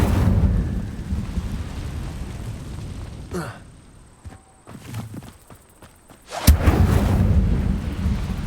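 An Incendio fire spell is cast in Hogwarts Legacy, a roaring burst that trails off into quieter combat sounds before another loud whooshing blast near the end.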